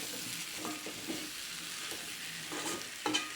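Potato and okra sizzle softly in a pan, a quiet steady frying hiss broken by a few brief stirring scrapes, with no talk.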